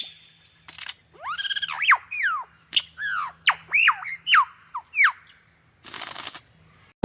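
A lyrebird mimics other birds' calls, giving a run of loud, close, sweeping whistles and squawks in quick varied bursts, ending with a short harsh rasp.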